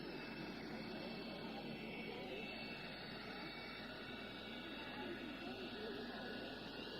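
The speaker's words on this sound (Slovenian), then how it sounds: "Slišali ste tudi ropotanje in šum reaktorjev letala, ki že pristaja na Ronškem letališču." A jet airliner landing at Ronchi airport produces a steady, distant roar of reactor engines and rumbling noise, continuous broadband hiss without break throughout.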